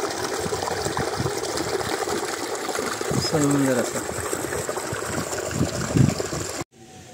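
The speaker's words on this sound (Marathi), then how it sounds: "बघा हे डोंगराचं पाणी वरून वाहत येते त्यामुळे असं हे खळखळ पाण्याची आहे" A mountain stream near Kadav in Karjat gurgles and rushes in a steady, close wash of water, with a person speaking briefly over it before it cuts off.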